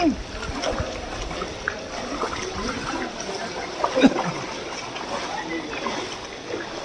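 Someone wades through shallow river water, with soft, irregular splashes and sloshing close by and faint voices in the background.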